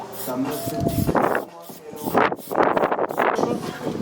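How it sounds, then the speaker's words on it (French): Gusty wind buffeting the microphone in rising and falling bursts, loud and close, with people talking over it. "Il y a trop de vent."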